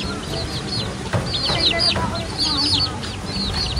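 Small chicks peep near a hut on a farm, with rapid high chirps coming in bursts at close range over a low background of outdoor noise.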